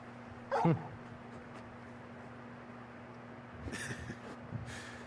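A large dog in the video game Final Fantasy 16 gives one short bark near the start, followed later by faint yips and whimpering sounds over a low steady game ambience with a constant hum.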